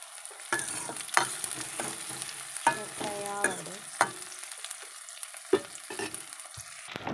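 Soya chunks frying in a pan for soya curry, a steady close sizzle broken by sharp scraping and clinking strokes of a stirring spoon at irregular intervals.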